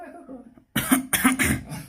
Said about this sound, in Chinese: 我想咳嗽的话，能咳嗽吗？